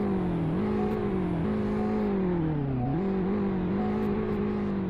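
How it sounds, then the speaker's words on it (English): Honda Civic Si engine in the Roblox game Greenville, a steady loud idle drone that rises and falls with light revving, alone with no voices. "The startup sound and revving isn't too bad"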